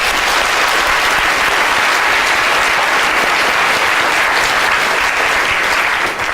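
A lecture audience at the Royal Institution claps in a loud, dense, sustained round of applause lasting several seconds before it tapers off.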